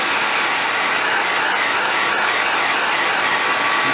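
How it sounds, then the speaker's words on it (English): A hairdryer blows steadily and close up, warming the glue under a vinyl wrap on a battered old mod vape, a continuous even broadband whoosh with no talk over it. "a hairdryer."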